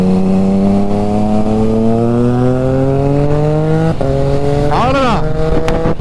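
A Triumph Trident motorcycle's exhaust during a group ride rises steadily in pitch under acceleration, then shifts gear with a quickshifter and climbs again, loud and close throughout.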